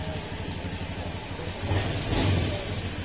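A Honda Beat FI scooter engine runs after a crankcase cover bearing repair, with a steady close idle that revs up briefly in the middle, and no voices.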